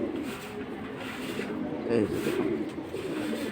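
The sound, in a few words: pigeons cooing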